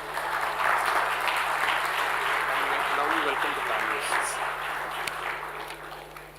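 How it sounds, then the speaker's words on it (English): An audience at a dairy sustainability event gives sustained applause welcoming a government minister, steady clapping throughout with a faint hum underneath. "please welcome our Honorable Minister with a big round of applause"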